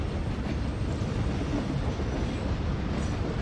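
A moving train in a Battle Royale video game gives off a continuous, heavy rumbling roar with faint rhythmic clatter, loud and close without any break.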